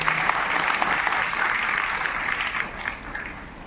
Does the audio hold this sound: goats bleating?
no